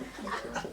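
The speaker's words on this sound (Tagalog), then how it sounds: "May tumatahol na naman yung aso namin." A household dog barks in a short, close burst of two or three yelps, with some mid-range noise behind it.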